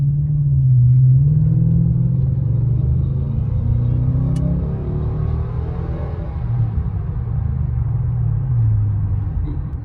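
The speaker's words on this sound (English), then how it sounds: "not much induction noise, really. You can only hear the exhaust" A car with a stock air filter accelerates at moderate throttle, its exhaust giving a deep, steady rumbling drone that swells and eases slightly over ten seconds, close by and alone without talk.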